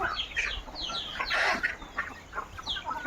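Hens, some laying, cluck in a busy overlapping chorus of short squawks and calls, close and fairly loud.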